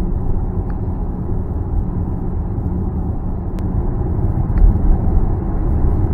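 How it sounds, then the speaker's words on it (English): Wind noise inside a moving Audi Q4 e-tron Sportback 40 electric SUV: a steady, loud low roar of air and road rush filling the cabin, with a few faint clicks and no talk. "There's a great amount of wind noise though"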